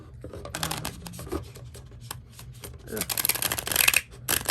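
Stiff new tarot cards riffle and flap in quick bursts, close by, growing louder and busier toward the end.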